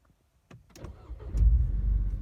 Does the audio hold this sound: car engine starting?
yes